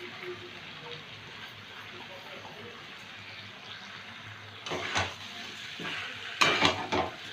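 Potatoes, pointed gourd and Gobindobhog rice being stir-fried together with spices in a pot, a low quiet sizzle under faint background hum, then a few clattering scrapes of a spoon against the pot near the end.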